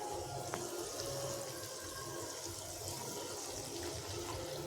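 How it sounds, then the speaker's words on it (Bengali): Water is added to a soybean masala curry gravy that is releasing oil in a pan, giving a steady, moderately loud liquid wash with faint kitchen noise and no talk. "তাই এতে আমরা যোগ করবো সামান্য পরিমাণ জল"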